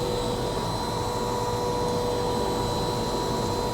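A coffee roasting machine runs mid-roast with a steady, loud broadband roar of fan and heating elements and a faint constant whine, unchanging throughout.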